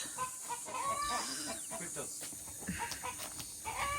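A turkey being caught squawks and gobbles in agitation in a coop while chickens cluck nearby, with scuffling and rustling throughout.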